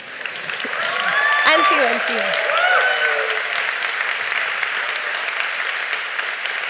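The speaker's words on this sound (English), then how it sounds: "give another clap to her" Steady audience applause at a resilience-themed forum, a broad crowd of clapping hands that swells and holds throughout, with a few voices briefly speaking over it near the start.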